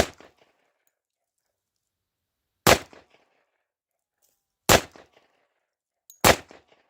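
A Tisas Yukon 10mm pistol fires sharp, loud single shots, each with a short echoing tail and separated by long silent pauses. No one speaks.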